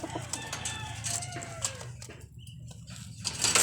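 Domestic pigeons in a loft, with soft bird calls and brief wing flutters running throughout, fairly close and moderately quiet, over a steady low background rumble.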